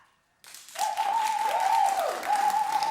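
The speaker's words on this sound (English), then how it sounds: "Clap" Studio audience at a live daytime talk show clapping together, a steady broadband wash that starts abruptly and holds for a few seconds, with a sustained tone running beneath it.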